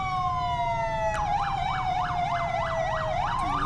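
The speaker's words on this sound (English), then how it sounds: "let's say you have your siren going, and you hit the up arrow, you can have dual sirens going" Dual police car sirens in the video game FivePD on FiveM: one long descending wail layered with a fast, repeating yelp, loud and close over a low engine rumble.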